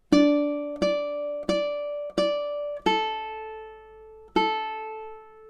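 A ukulele plays a slow plucked melody of six notes from "Au clair de la lune", each ringing and decaying before the next, clear and close with no talking.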